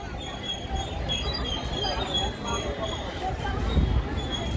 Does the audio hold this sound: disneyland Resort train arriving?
yes